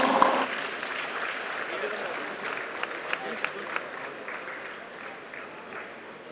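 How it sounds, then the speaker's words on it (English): Applause from an audience at a university national coding event prize ceremony, greeting a second-place team; a steady, moderate clatter of many hands that fades slightly toward the end, with a few sharper claps standing out midway. "A huge round of applause for the Team Control Freaks."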